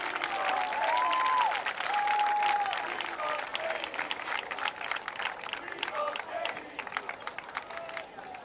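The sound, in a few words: audience applause at a varsity soccer game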